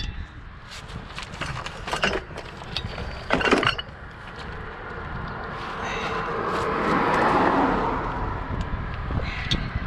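Breaker bar straining on a stubborn bolt of a Ford F450 truck, scraping and clanking metal with a few sharp knocks, moderately close, rising into a sustained grinding creak toward the end.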